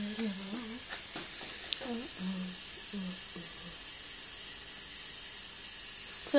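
Steam hisses steadily from the supply line of an old donkey engine, a constant broad breathy rush heard close, with a voice talking over it in the first few seconds.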